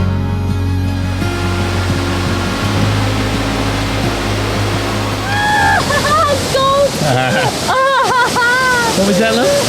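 Waterfall in Sri Lanka, a steady broadband rush of falling water filling the whole clip, with people talking over it in the second half.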